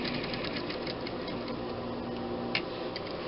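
A sewing machine stitches a pillowcase with a steady, close mechanical whir and fine rhythmic ticking, running continuously with a small clack midway.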